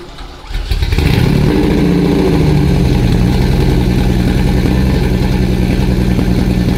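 A Lamborghini Murcielago engine turns over and catches, then settles into a steady, loud idle with a low throbbing rumble close by.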